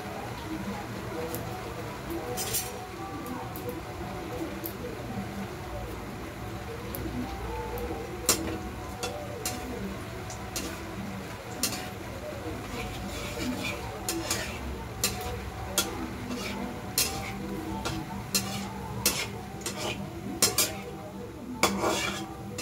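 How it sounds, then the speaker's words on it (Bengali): Whole spices such as cumin, cinnamon and cardamom frying in hot oil for chicken khichuri, a faint sizzle under frequent utensil clinks and pot scrapes. "এই দেখো তেলটা গরম হয়ে গেছে, একটা দিয়ে দিলাম।"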